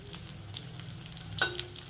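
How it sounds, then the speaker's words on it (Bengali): Chicken pieces fry two at a time in a little oil, a soft steady sizzle with a few sharp spatters and scrapes nearby. "অল্প তেল যার জন্য দুটো দুটো করে ভাজবো"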